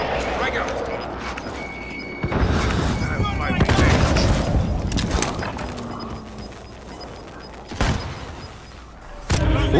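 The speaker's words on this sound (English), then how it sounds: "Be advised, friendly precision airstrike inbound." Airstrike explosions in Call of Duty Warzone, several heavy booms and rumbling blasts with crackling gunfire around them, loud bursts scattered across the stretch, while players talk over the game sounds.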